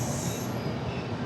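Amaravati Express pulling into Rajahmundry station, a steady close rumble of rolling coaches and rail noise with a faint high squeal, continuous and alone.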